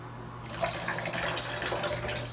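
Warm water poured into a container for a baking soda and tea tree oil dreadlocks rinse, a steady close splashing pour that runs for a couple of seconds with no talking.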